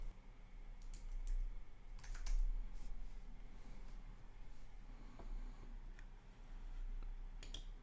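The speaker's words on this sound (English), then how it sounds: "I'm just going to type in" Typing on a computer keyboard while building a WordPress website, a steady run of light, quick key clicks with a few louder taps, close and alone against a quiet room hum.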